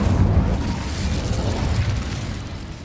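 An Incendio fire spell goes off in Hogwarts Legacy as a loud, close, rushing boom that swells at once, then roars and slowly fades over a few seconds.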